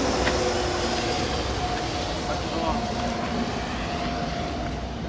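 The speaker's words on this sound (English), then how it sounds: "Look at the planes flying so low." A low-flying airplane passes over in Hawaii, a steady broadband engine roar with a faint tonal hum that holds loud throughout, with people talking over it.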